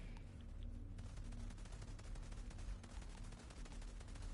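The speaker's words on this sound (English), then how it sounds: "Bolt and Thunder's, dual pistol sound effect." Bolt and Thunder dual pistols firing in Outriders, a steady, fast string of crisp gunshots in quick succession, loud and up close, continuing without pause and with no voices.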